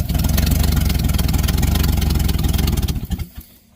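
A Chevrolet truck engine idles with a loud, close, rapid pulsing rumble and a slight clatter, then shuts off and fades to quiet near the end.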